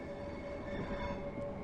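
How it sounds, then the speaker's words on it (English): A Class 700 train runs in Train Sim World 3, giving a steady, fairly faint rail rumble with a thin whining tone on top and no clear clicks. "it's really nice to actually have this train in this game now"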